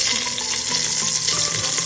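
Onions and other vegetables fry with garlic in a hot pan for veggie fried rice, a loud, continuous close-up hiss and crackle with no pauses.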